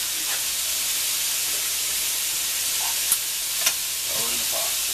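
A sausage sizzles steadily in a pan while red beans and rice are prepared, a soft constant hiss with a couple of sharp pops and faint kitchen clatter.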